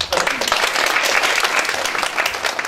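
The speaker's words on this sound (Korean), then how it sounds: "수고해 주신 이구경 교수님께 큰 박수 다시 한번 부탁드립니다" A large audience applauds at the close of a presentation at a public forum on Jeollabuk-do's financial industry: dense, loud, sustained clapping that fills the whole stretch with no gaps.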